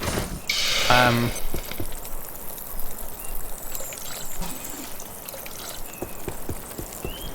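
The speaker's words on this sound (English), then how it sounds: "does sound nice to have this bubbling sound effect in the background" Video game soup bubbling and pouring, with a louder gurgling burst near the start, then a steady wet simmer continuing in the background.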